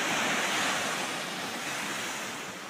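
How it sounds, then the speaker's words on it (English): An ocean wave surges in and washes up the shore in one broad, steady rush of surf, loud and close, easing off slightly toward the end with wind noise and no speech. "Here comes the wave."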